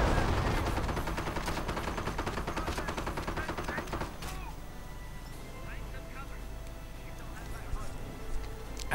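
Anti-tank guns firing during a real-time strategy game battle with British armoured units and a Panzer Rex, rapid overlapping shots and bursts, dense at first and then thinning out in the distance.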